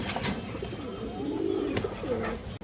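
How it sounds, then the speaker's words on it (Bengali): A large red Chulli hen pigeon offered for sale coos nearby in low, rolling, repeated calls, with a few sharp clicks over a noisy background. "এই দেখেন দর্শক বড় সাইজের একটা লাল চুল্লি মাদি কবুতর"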